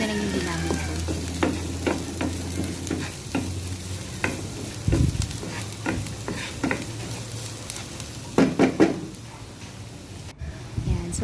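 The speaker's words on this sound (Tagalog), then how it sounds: "dun sa same pan, lagay na natin yung bawang" Garlic sizzles in leftover beef-frying oil in the same pan while cooking bistek Tagalog, with a steady close frying hiss and repeated scraping stir strokes from a utensil, plus a few louder clatters near the end.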